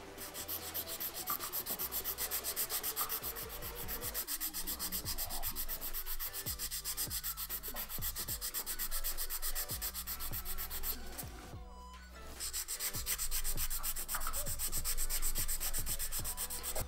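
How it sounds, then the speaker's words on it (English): A 240 grit file rubs steadily back and forth along the edges of a press-on nail in quick, dense strokes, close and continuous with a brief lull near the end. "I'm going to file it with a 240 grit file"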